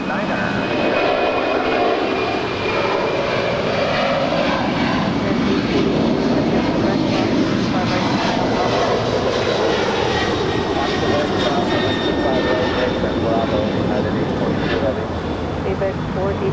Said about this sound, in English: here goes the ABX brand new livery on the 767